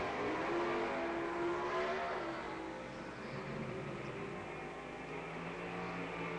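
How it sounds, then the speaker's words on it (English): Super Stock drag racing cars with screaming small-block engines, one a 455-powered Firebird, roar at full throttle down the strip, a dense, sustained, loud engine wail that slowly fades slightly as they pull away. "Another one of those screaming little small blocks."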